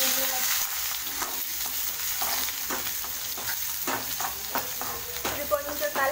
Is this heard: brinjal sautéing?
yes